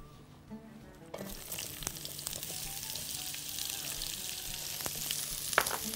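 Onions start sizzling loudly as they hit hot oil, then settle into a steady crackling fry with occasional sharp pops.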